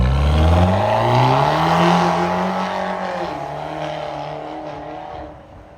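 A BMW F30 320 engine revs hard through a remote-controlled valved performance exhaust, the pitch climbing, then easing back into a deep, throaty rumble that fades.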